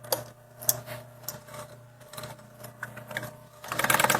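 A sewing machine stitches a fabric handbag, giving soft rhythmic mechanical ticking with a low motor hum that turns into a faster, louder run of stitches at the end.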